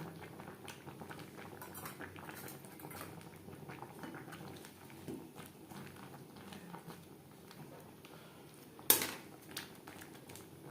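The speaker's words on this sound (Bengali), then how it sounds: "চার পাঁচ মিনিট সেদ্ধ করে নেব" Tomato sauce with dates and ginger simmers in a pot with a faint, steady bubbling patter, broken by one brief utensil clink near the end.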